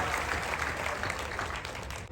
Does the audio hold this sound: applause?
yes